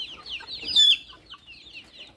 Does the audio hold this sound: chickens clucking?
yes